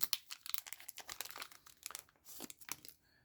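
Packaging of a Pilot Con-70 ink converter being cut open: quiet, close crinkling and snipping of plastic in short irregular bursts over a few seconds.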